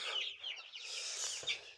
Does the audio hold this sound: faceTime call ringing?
no